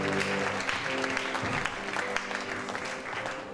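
A church congregation claps steadily for a few seconds, dense and even applause from a crowd indoors at moderate volume, with no voices over it.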